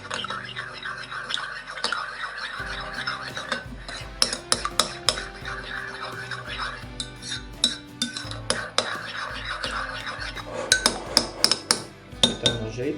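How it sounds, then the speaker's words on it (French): A teaspoon stirs vegetable velouté in a pot, giving repeated clinks and scrapes of metal against the pan in an irregular rhythm, close and fairly loud, with no voices. "Et avec une cuillère à café, vous remuez."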